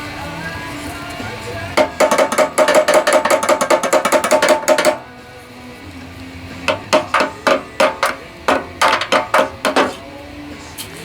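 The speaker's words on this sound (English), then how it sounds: "this is not a mechanic's hammer, this is a carpenter's hammer" A carpenter's hammer strikes a pressure washer water pump, beating out a fast run of sharp metallic blows followed by a pause and then several shorter, more spaced bursts of hits, loud and close.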